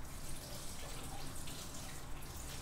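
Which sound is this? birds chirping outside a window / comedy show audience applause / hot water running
hot water running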